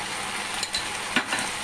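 Chilli powder frying in the oil of a tempering for bisi bele bath, with curry leaves already in the pan, makes a soft steady sizzle with a couple of brief stirring scrapes near the end.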